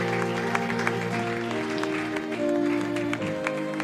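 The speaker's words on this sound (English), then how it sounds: "Let's clap our hands as we call upon our pastor, Pastor Isaac." A church congregation at a Sunday service in Kampala claps hands in rhythm, the steady beats set against sustained music.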